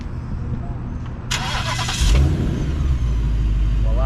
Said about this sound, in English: Voila, the car has started.